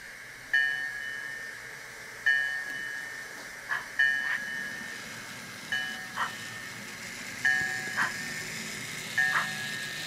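Mantua 4-4-0 Rock Island & Peoria model steam locomotive with Tsunami DCC sound, giving short repeated chuffs and hisses with faint whistle-like tones, spaced every second or two, quiet and close.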